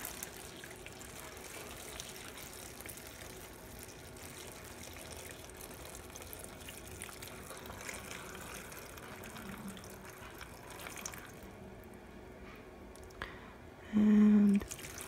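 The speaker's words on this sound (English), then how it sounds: "I'm going to add just enough water" Tap water runs steadily into a pot of cut-up apples, a soft continuous wash of low-level trickling that fills most of the stretch, ending in a brief louder tone near the close.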